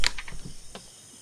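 Crickets chirp at night in the survival game Mist Survival, with a few quick high chirps at the start that fade into quiet background.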